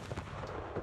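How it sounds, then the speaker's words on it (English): A grand cannon fires to open a duel in a story set on a snowy ski slope of a colony, a brief heavy boom with a rumbling tail, moderately loud and heard alone. "The Grand Cannon is fired and it starts."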